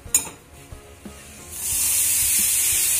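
Ridge gourd peels land in a hot tempering of oil and chilli, sparking a loud, steady sizzle after a few soft clinks and stirring taps.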